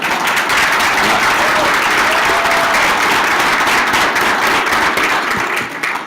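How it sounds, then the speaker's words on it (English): An audience claps for a national anthem singer at a women veterans celebration, dense sustained applause at steady volume that tapers slightly at the end. "we don't ever really get a chance to clap for somebody who sings the national anthem sometimes"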